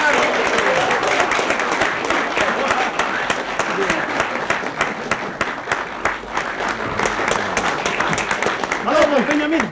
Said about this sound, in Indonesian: Ya, Muni Kadir, tepuk tangan